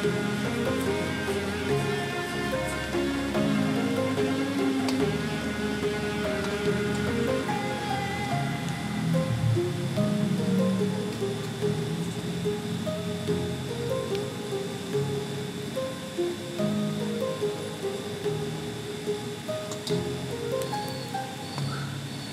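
Sliced onions and spices frying in oil in a pan for a Singhi fish curry made with home vegetables, a steady close crackling sizzle that runs unbroken throughout.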